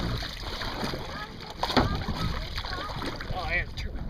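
Water splashes and sloshes from double kayak paddle strokes close by, with voices and wind noise throughout.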